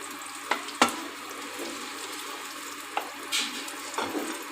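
Semolina batter frying in oil in a pan gives a soft, steady sizzle close by, broken by a few sharp clicks and scrapes as a spatula levels it. No one speaks.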